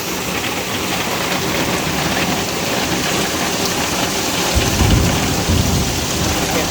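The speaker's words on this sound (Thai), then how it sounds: "ฝนก็ตกครับ" Heavy rain pours down in a dense, continuous hiss during a hailstorm in Sisaket, Thailand, with a low thunder rumble rolling in toward the end.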